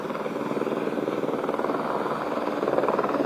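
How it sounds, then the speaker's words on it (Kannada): Helicopter lifting a dome during a survey at Gudibande Fort, a steady rhythmic rotor thump over a broad engine roar, fairly near and continuous. "ಆ ಡೋಮ್ ನ ಯಾವ ತರ ಲಿಫ್ಟ್ ಮಾಡುತ್ತೆ ನೋಡಿ ಹೆಲಿಕಾಪ್ಟರ್"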